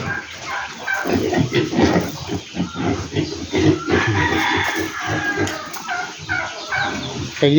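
A flock of chickens being fed a one-to-one mix of homemade starter feed, with busy overlapping clucking and calls close by, steady throughout with no talk.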